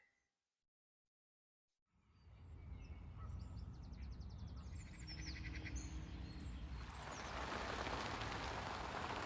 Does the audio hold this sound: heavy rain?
yes